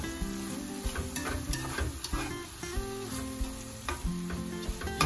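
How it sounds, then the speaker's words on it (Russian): Thai-style meat with bell pepper strips sizzling steadily in a frying pan while a utensil scrapes and stirs through it, close up, with no voices. "Перемешаем все это хорошенечко."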